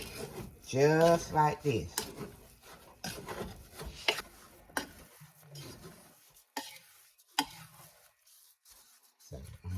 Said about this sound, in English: All I'm gonna do is continue to stir this just like this.